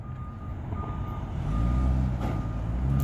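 A truck reverses nearby at a post office, its backup alarm beeping in a steady repeating rhythm over a loud low engine rumble that grows heavier midway.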